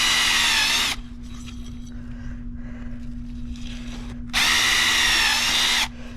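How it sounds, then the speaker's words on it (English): A power drill drills holes in a plastic bucket, whining loudly in two bursts, separated by a quieter stretch of low motor hum and faint scraping. "I'll drill 3 holes all the way to the bottom of the bucket."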